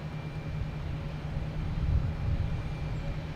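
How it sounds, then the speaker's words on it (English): A Cape Air Cessna 402 twin-engine plane takes off at Boston Logan Airport, a steady low rumble that holds for several seconds and swells slightly midway, with no one talking. "Next we have a Cape Air taking off, heading to Lebanon."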